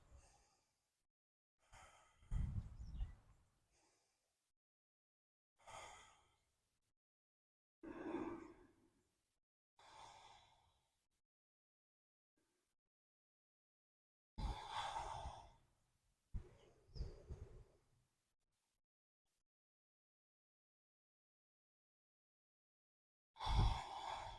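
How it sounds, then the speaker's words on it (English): Slow, deep yoga breaths, each inhale or exhale a soft airy rush separated by long silences, about ten cycles heard close and quiet with no talking. "We'll take 6 big cycles of breath here."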